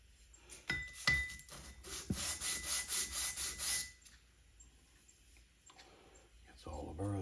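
Abrasive rubbing as burrs are sanded off metal side parts of an Odds'n Ends Hit'n Miss engine, a burst of steady back-and-forth strokes followed by quieter handling noises and a faint voice.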